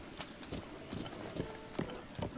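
Horse hooves clip-clop in a quick, steady rhythm across terrain in Zelda: Breath of the Wild, fairly faint and soft against a low game background.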